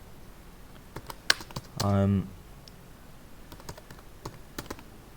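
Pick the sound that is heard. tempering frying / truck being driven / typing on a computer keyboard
typing on a computer keyboard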